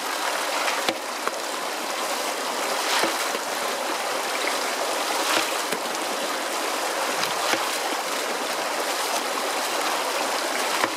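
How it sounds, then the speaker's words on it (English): Reddish water gushes steadily from a small hole in ground of red sandstone, a continuous close rushing flow with no voices. "We've got a little hole down here, it's been chucking like tomato juice out."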